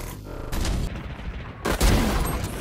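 Gunshots in the Valorant video game, a few sharp, loud cracks in quick succession with booming echoes between them.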